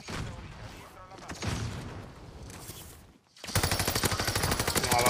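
Bursts of gunfire from a shooter video game come in uneven waves. A dense rapid stream of automatic fire then swells loudly after a brief silence, with voices mixed in.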